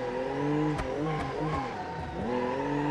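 A car drifting through a parking garage in BeamNG, the engine revving and rising in pitch with a squealing tire edge and brief dips between throttle pulls, loud and continuous.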